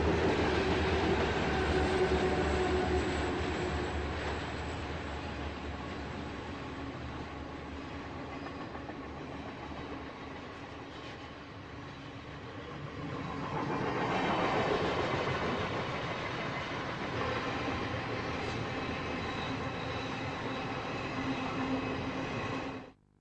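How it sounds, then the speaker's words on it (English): A BNSF freight train passes on the Stevens Pass line in the Cascades, a loud continuous rumble and roar of wheels on rails that swells midway and cuts off abruptly at the end. "You expect the trains to move like roadrunners in a place like this"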